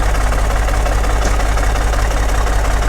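A Caterpillar RD-6 bulldozer engine loads up while pulling on a tree, a loud, close, steady diesel rumble with a knocking throb and no voices.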